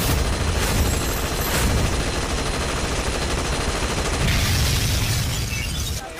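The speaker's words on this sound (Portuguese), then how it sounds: "E onde é que ele foi arranjar essa metralhadora Thompson? Ele tá atirando!" A Thompson submachine gun fires in a dubbed anime street scene, a loud, dense, continuous rattle of rapid shots that fills the whole stretch without pause.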